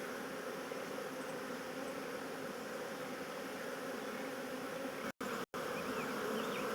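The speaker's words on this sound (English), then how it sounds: "They're bearded big time out here with the swarm from last week." A honeybee swarm buzzing around hives in a beekeeping yard, a dense continuous drone of many bees filling the whole stretch at steady moderate loudness, with a couple of brief dropouts near the end.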